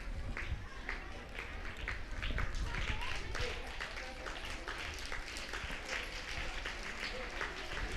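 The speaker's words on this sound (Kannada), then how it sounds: "ಜೋರಾದ ಚಪ್ಪಾಳೆಯ ಮೂಲಕ ಆ ಮಕ್ಕಳಿಗೆ ಪ್ರೋತ್ಸಾಹಿಸಿ." An audience at a school annual day claps for prize-winning children, a dense, sustained patter of many hands, with voices talking underneath throughout.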